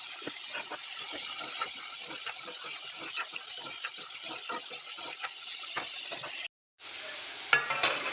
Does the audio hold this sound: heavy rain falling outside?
no